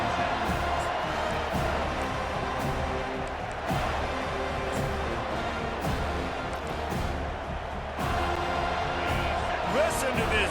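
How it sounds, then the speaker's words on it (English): A packed stadium crowd roars in College Football 25 during a Florida State vs. Auburn game, a sustained, heavy wall of cheering that swells and dips while a commentator talks over it. "Listen to this crowd just shaking the girders of this place, trying to help their defense."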